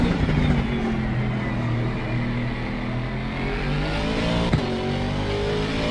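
An Aston Martin Vantage GT3 race car accelerates on the Misano circuit in Assetto Corsa Competizione, its engine droning loud and steady with rising harmonics as it pulls through the gear, close and continuous.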